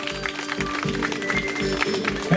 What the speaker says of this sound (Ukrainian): Отже, друзі, вітайте оплесками.